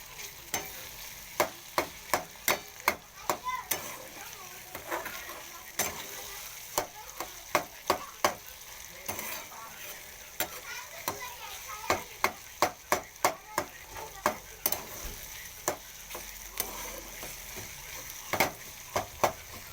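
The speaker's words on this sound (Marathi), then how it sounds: "4-5 मिनिट भाजायचं तेलामध्ये हे वांगा आणि कांदा." Eggplant and onion fry in oil in a pan, a steady sizzle running underneath while a spoon clacks sharply against the metal again and again in quick irregular bursts.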